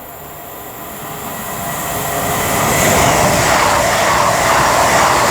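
Avanti West Coast Class 221 diesel train from Holyhead to London Euston passes at Rugeley Trent Valley, a loud rushing roar of engine and wheels that swells and stays strong, with some wheel squeal and no talk.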